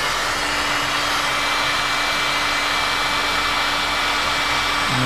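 A hair dryer or heat gun warms glued porthole screws, running as a loud, steady, continuous whoosh with a constant motor whine from start to finish, no voices.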